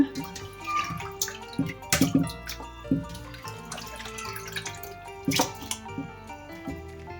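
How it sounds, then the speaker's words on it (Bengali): Broiler chicken meat is washed by hand in water, giving irregular splashes, drips and sloshing with a few sharper clatters, moderately close and without talk. "যদি একটু ময়লা থাকে হাত দিয়ে টেনে টেনে ধুয়ে নেবেন সবাই"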